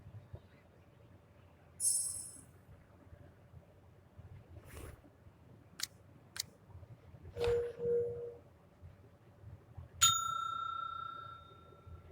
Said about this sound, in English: You rang, though I'm not sure how, when I'm repairing the bell right now.